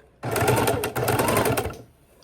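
Sewing machine stitching bias binding of 55% polyester fabric around a corner of a baking dish cover, a steady close whirring run that pauses briefly mid-way, then resumes before stopping.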